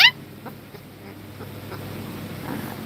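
Soft, scattered clucking from chickens somewhere off at a distance, spaced irregularly over a faint outdoor hush, after a brief sharp squawk at the start.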